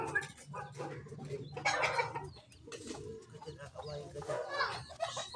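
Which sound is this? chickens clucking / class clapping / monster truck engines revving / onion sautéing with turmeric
chickens clucking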